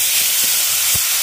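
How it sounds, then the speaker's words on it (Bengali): Ground ginger paste hits hot oil already seasoned with five-spice and turmeric, giving a loud, steady hiss of sizzling with a couple of brief pops. "তেলের মধ্যে আদা বাটাটা দিলে প্রচুর পরিমাণে তেল ফিটাবে"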